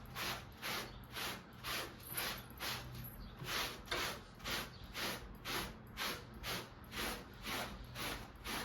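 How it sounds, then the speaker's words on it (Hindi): A laundry brush scrubs across a floor mat in steady back-and-forth strokes, about two per second. The rhythmic bristle scraping is faint and close, and continues evenly throughout. "इस ब्रश से आप आराम से मैट को एक तरफ से साफ"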